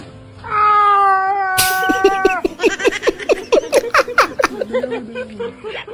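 A voice imitates a cat in heat with a drawn-out, wavering yowl, then breaks into choppy bursts of laughter.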